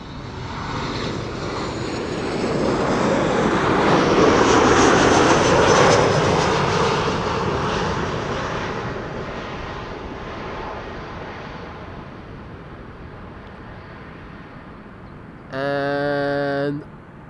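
An airliner arrives at Amsterdam Schiphol Airport on a sunny day, its engine roar swelling as it passes close overhead, then fading slowly into the distance, followed by a short tonal electronic beep near the end.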